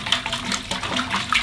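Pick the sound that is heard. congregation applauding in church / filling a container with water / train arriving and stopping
filling a container with water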